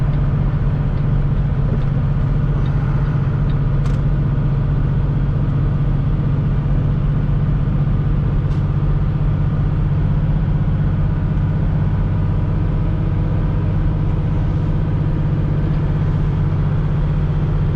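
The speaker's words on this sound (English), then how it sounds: "we got a lot of cars coming off it" Highway traffic of cars and heavier vehicles streaming past on the Donner route, a continuous low rumbling engine roar with a constant wash of road noise and a couple of faint clicks, no voices.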